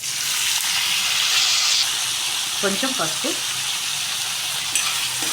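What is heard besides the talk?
onions and tomatoes frying in tempering oil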